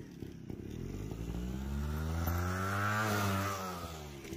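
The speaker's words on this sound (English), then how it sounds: "that simple idea of revving the bike up, squatting, and then going, releasing the clutch and getting the bike to lift up off the ground" A dirt bike engine revs up and holds at high rpm ahead of a clutch-release wheelie launch, with a steady, loud, close drone that climbs in pitch and then stays high.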